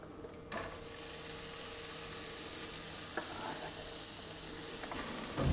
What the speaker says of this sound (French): Je vais faire revenir les oignons de l'autre.